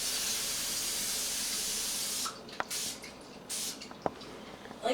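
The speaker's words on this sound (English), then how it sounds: "get the grease can or oil can and spray the pan" Cooking oil sprayed from an aerosol can onto a baking pan for brownies: a steady close hiss for about two seconds, then a couple of shorter spray bursts separated by small clicks and taps.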